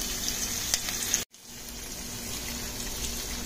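Onions, a bay leaf and curry leaves fry in hot oil with a continuous sizzling hiss that cuts out briefly for a moment, then resumes steady and close.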